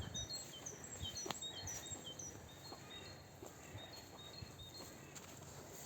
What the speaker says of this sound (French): Chardonneret, mésange, tout ça.